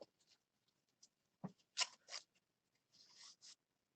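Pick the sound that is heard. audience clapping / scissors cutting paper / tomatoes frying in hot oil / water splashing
scissors cutting paper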